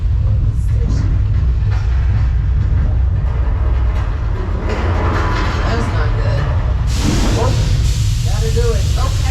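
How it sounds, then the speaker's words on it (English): Mechanical special effect triggered on a subway-themed studio soundstage at Universal Studios Hollywood, a loud train-like rumble and hissing spray that builds and ends in a bright burst, with people talking over it. "we have somehow triggered the mechanical effect that I was literally just telling you about"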